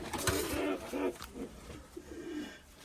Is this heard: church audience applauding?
no